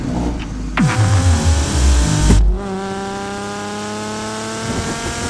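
A BMW S38 engine taken from an E24 M6, running in a custom car, loud and close, with a deep revving surge that rises and drops twice before settling into a steady, droning idle.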